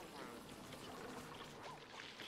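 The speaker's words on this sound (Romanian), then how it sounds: "Merge pompa, my friends." A pump running in Oxygen Not Included, moving contaminated water with a steady, faint pouring and trickling wash, continuous and even throughout.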